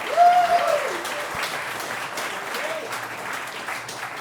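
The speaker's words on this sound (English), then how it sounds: "let's give a round of applause" Audience applause at a live audio-mixing conference panel, a steady broadband patter of clapping that swells in the first second and holds evenly, with a brief voice tone over the start.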